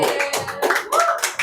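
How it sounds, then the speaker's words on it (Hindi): Applause from the audience at an open mic poetry event comes as a dense wash of clapping, with whoops and voices mixed in, held at a steady level throughout. "जोरदार तालियां"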